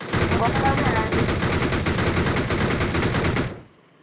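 Rapid automatic gunfire in a shooting video game, aimed at a house across the street, rattles in one dense continuous burst for about three and a half seconds before cutting off abruptly.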